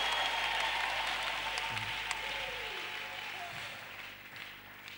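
A church congregation applauds steadily at a worship service, a dense wash of clapping filling the whole stretch and easing slightly toward the end, with no voices standing out.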